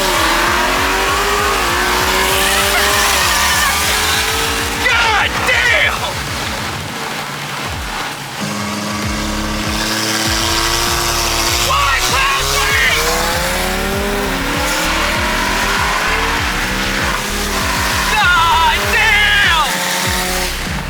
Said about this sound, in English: I'm going to show you guys a little video of me and Beasley racing